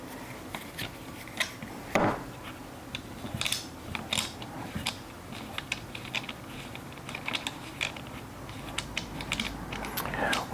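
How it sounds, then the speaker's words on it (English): A screw is tightened into a Ruger 10/22 Takedown rifle, producing a close run of small irregular clicks, scrapes and ratcheting ticks, with no talking. "take your screw, and we are going to tighten this up"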